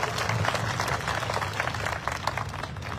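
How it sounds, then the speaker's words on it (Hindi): A crowd at a program claps loudly in a continuous, dense wash of applause with a low rumble of room noise and murmuring beneath it. "एक बार जोरदार तालियां आप लोगों को"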